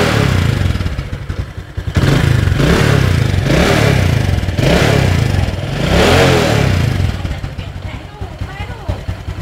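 A small moped engine running on Shell VSX oil runs close by, sputtering and rising in bursts of revving with clattery mechanical noise.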